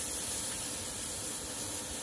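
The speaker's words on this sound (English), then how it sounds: "You can hear that sizzle." Steady broadband hiss of beef short ribs sizzling in a hot pot, constant and fairly loud with no voices.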